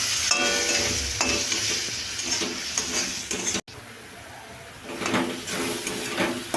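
Mango chutney with sugar being stirred in a cooking pan, a steady scraping and sizzling churn that cuts out briefly midway before resuming, with no voices.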